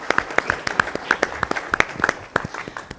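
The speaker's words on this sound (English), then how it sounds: "So huge round of applause for everyone in this room" Sparse, distinct hand claps ring out in a room at a workplace talk, a few people clapping unevenly rather than a full crowd, with the rhythm loose and the claps moderately close.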